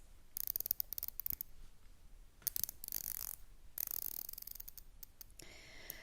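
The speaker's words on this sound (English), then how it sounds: "Every single click that you hear, you feel in your fingertips." Crisp, rapid mechanical clicks come in bursts as the unidirectional dive bezel of a Bulova Devil Diver Oceanographer watch is turned, close and quiet, with short pauses between runs.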